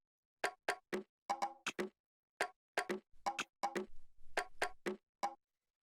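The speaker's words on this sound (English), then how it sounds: "So the next thing that we have here is this drum rack, which sounds like this." A loop of four percussion sounds from a drum rack for atmospheric house music: dry, clicky hits in an irregular ticking pattern with short gaps, fairly quiet and alone.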